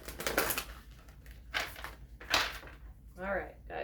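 Oracle cards being shuffled by hand, several short papery riffling bursts separated by pauses, close and fairly quiet.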